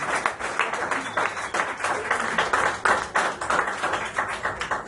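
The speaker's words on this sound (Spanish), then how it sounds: "Dale un aplauso bien fuerte al Señor." A church congregation bursts into dense, sustained applause, with many hands clapping loudly and continuously and no speech over it.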